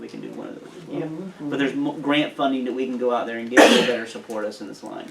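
Someone speaks steadily, and partway through a single sharp sneeze bursts out from someone nearby, briefly overlapping the talk.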